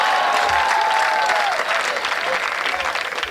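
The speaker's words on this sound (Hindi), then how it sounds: "एक बार माइक वाले के लिए ज़ोरदार तालियां हो जाए।" A large crowd at a live Hindi comedy show claps loudly and continuously, dense steady applause filling the whole moment, with faint tonal sounds early on.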